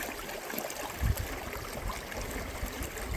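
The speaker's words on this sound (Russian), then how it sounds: "Дикая река." A wild taiga river rushes and gurgles in a steady broadband wash, close and fairly loud, with a few heavier splashing surges and no talking.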